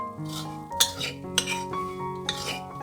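Vegetarian rendang being stir-fried in a pan with salt and vegetarian oyster sauce, with a utensil scraping and clinking against metal in a few distinct knocks over a steady tonal background hum.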